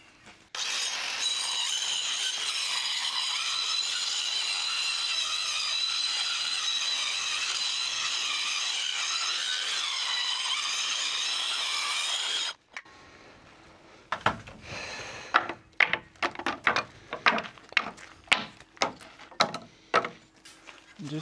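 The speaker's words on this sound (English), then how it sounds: "that line right there is where I'm going to cut off these decking boards" A saw cuts through old, dry-rotted wooden decking boards on a century-old Queenslander porch: a loud, steady whine runs for about twelve seconds and stops abruptly, followed by scattered knocks and clattering of loose boards.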